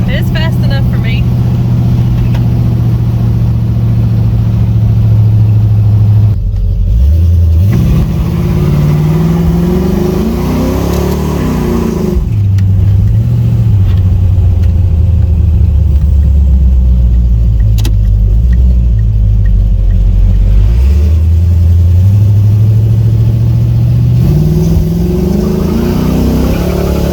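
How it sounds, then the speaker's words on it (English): A Chevrolet Camaro with an LS engine, under-fuelled and under-intaked, runs loud and close, rising and falling through several sustained revs and shifts over a steady engine drone, with a voice talking over it. "Little Camaro. She runs pretty good for what it is."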